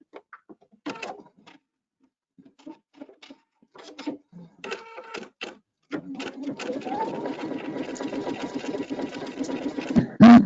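A domestic embroidery or sewing machine runs a continuous satin stitch around the edge of a trimmed cupcake appliqué, starting after a few sparse clicks and short bursts, then humming steadily and rapidly at close range until the end.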